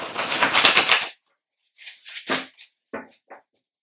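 Oversized tarot-style cards shuffled by hand, a dense papery riffle burst lasting about a second, then a few shorter scattered flicks and slides, close and alone.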